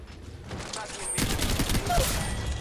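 Dense, continuous gunfire from Apex Legends Mobile, starting softly and then erupting into loud rapid bursts of automatic fire that run to the end without a break.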